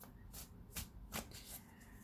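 A deck of cards riffled and shuffled several times in quick bursts, close and crisp, with no voices.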